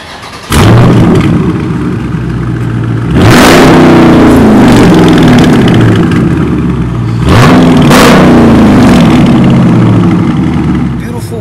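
A widebody Dodge Daytona 392 V8 fires up and revs hard three times, each loud blip followed by a rough, throbbing idle, close and dominant with voices in the background.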